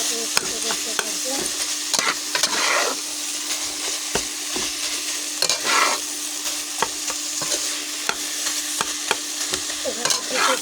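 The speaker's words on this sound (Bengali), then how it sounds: "এখন আমি নাড়তে থাকবো আর হালকা করে ফুটো করতে থাকবো।" Jackfruit curry is stirred and mashed in a pan after its liquid has dried off. A spoon scrapes and taps steadily against the pan over a soft, continuous sizzle, close up and with no talking.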